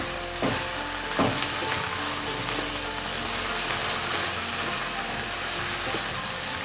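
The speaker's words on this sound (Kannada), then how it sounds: "ಟೊಮೊಟೊ ಸ್ವಲ್ಪ ಮೆತ್ತಗಾಗೋವರೆಗೂ ನಾವು ಈ ರೀತಿ ಫ್ರೈ ಮಾಡ್ತಾ ಬಂದರೆ ಸಾಕು" Chopped tomato frying in a pan for street-style egg rice makes a steady, close sizzle, with a couple of sharp spoon taps on the pan near the start and even crackling throughout.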